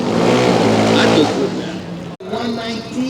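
A jet-powered drag race car roars loudly at a drag strip during a night race event, a broad sustained blast that cuts out abruptly for an instant and then resumes, with voices faintly mixed in.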